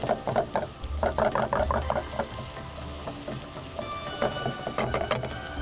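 Ginger frying with salt in a pan while a Kashmiri kofta dish is cooked: steady close sizzle and crackle with stirring scrapes and soft clatter, mostly without talk.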